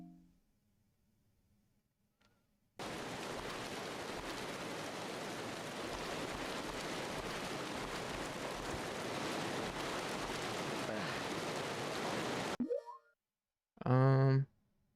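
Steady heavy rain pours down in a video game, a dense even hiss that starts abruptly and runs for about ten seconds before cutting off, followed by a short tonal game sound.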